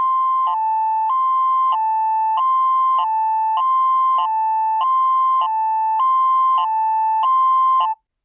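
Siren modulator sounding close and loud, a two-tone warble switching back and forth at a steady, regular rhythm for several seconds before cutting off abruptly.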